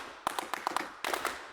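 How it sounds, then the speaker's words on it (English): Sampled hand claps from the ProjectSAM Lineage Percussion library, a handful of crisp, close claps in quick uneven clusters with a short pause between the two groups. "hand claps. You've got groups here and singles there."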